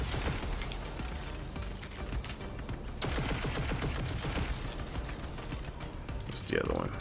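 Rapid gunfire from the video game Destiny 2, a dense stream of overlapping shots and mechanical clatter running almost the whole time at steady loudness, with a voice talking over it.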